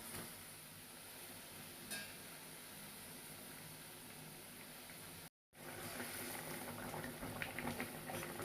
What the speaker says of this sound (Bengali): ঝোলটা ফুটছে